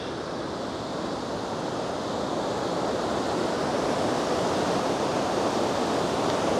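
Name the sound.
river water rushing below bridge in Kongsberg, Norway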